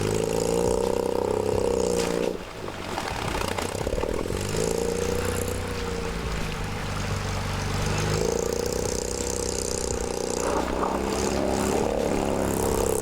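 A vintage pre-1956 MG car engine revs hard at a rally, a loud, close, throbbing drone that dips briefly, then rises again and holds at high revs, with no voices over it.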